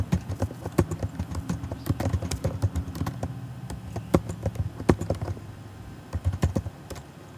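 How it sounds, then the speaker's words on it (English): Typing on a Mac computer keyboard while formatting an APA-style paper, with rapid irregular key clicks and a few heavier taps, close and clear throughout with no talking. "Tab down 4 times, 1, 2, 3, 4, and type the title of the paper."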